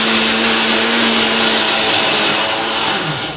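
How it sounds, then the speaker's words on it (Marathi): Kitchen mixer grinder running at full speed, a loud continuous whirring motor drone with a steady hum that holds evenly and eases slightly at the end, with no voices. "हे आमचं मिक्सरचा आवाज."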